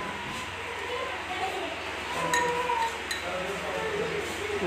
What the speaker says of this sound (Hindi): चम्मच